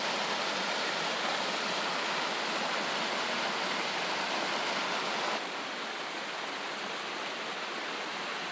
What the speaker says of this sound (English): That looks like a pretty legitimate waterfall.